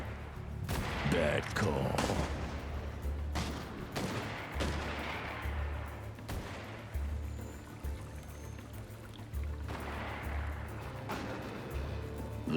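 Shootout gunfire from the video game Hard West 2: scattered sharp shots and bursts over a low rumbling bed, with some pauses between volleys and a short spoken line.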